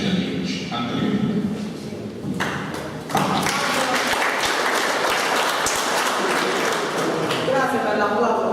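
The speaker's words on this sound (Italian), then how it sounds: "Grazie per l'applauso" Applause from a seminar audience fills the room, starting lighter and swelling into steady, dense clapping that continues throughout.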